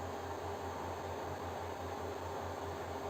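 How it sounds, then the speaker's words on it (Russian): The power supply unit of a Twotrees Sapphire Plus 3D printer runs with a steady, even fan whir and a faint low pulsing hum. The noise is constant and alone, with no voices. "Уровень шума блока питания 64 дБ."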